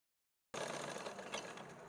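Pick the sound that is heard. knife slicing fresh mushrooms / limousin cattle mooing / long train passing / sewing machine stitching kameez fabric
sewing machine stitching kameez fabric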